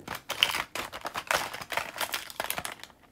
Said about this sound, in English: we just have shuffling objects, which is just a simple WAV file, or just a simple audio file I recorded.